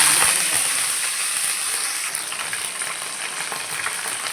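Onions frying in hot oil for a crab sukka, a steady broadband sizzle that holds close and even throughout, with faint stirring crackle and no talking.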